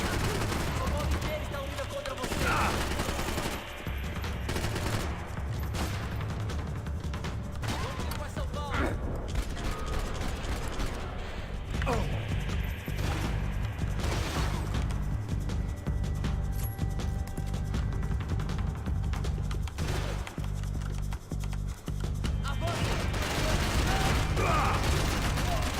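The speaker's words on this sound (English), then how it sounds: "That guy's still shooting." Bursts of gunfire from the video game Max Payne 3, rapid volleys and single shots layered over game music and effects, loud and dense throughout, with a voice talking at times.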